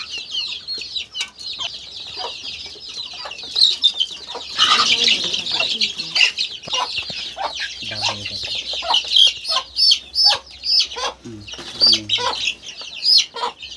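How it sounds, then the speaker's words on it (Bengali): Chickens and a rooster cluck and squawk close by in a steady, busy chorus, with a short flurry of flapping wings and some people talking at times underneath. "এইটা হ্যাঁ এটা মোরগ হবে।"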